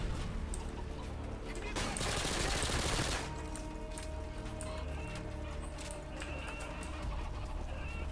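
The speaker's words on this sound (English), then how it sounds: "These guys use shotguns" Shotgun fire in Call of Duty: Modern Warfare 2, a steady stream of shots over a noisy battle bed, with one dense, loud burst of fire around the middle.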